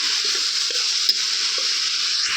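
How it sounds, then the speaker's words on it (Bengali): Potatoes frying in a pan, a steady, loud, close hiss of hot oil that holds throughout, with a few soft stirring knocks beneath it. "আলু খিনি বই দিয়া এখন ভাজা আলু"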